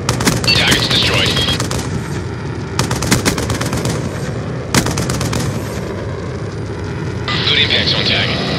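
Sustained gunfire and heavy impacts from a VTOL warship in the video game Black Ops II, a dense roaring barrage with bursts of rapid shots, while radio-style voices talk over it.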